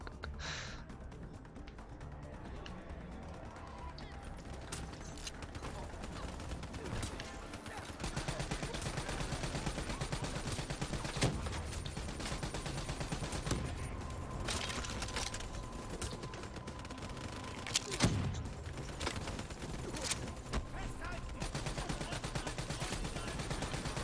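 Call of Duty Black Ops 3 gunfire rattles in continuous bursts under a dense game soundscape, with mechanical clanks and occasional sharper shots standing out, plus faint voices.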